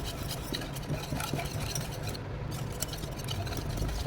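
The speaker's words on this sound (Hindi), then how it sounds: "दही लिया, इसको भी मिक्स करेंगे" Curd is stirred into a mixture in a bowl, giving a steady, close scraping and clicking of a spoon that runs without a break and with no talk.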